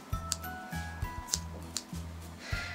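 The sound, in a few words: scissors trimming a long-haired guinea pig's fur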